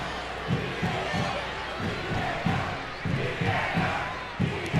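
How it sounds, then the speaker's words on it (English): Stadium crowd at a USA v Mexico women's international friendly soccer match chanting VAR in a loud, rhythmic, repeated pulse that fills the ground, with a dense wash of general crowd noise beneath. "the crowd are chanting VAR"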